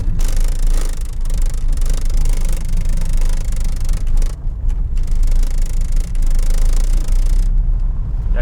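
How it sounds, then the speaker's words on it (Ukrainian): Rattling front dashboard panel in a Toyota Prius taxi driven slowly, a dense steady buzz and clatter over low road rumble and cabin hum, continuous and fairly loud throughout. "Як ви можете чути, цей прекрасний звук передньої панелі."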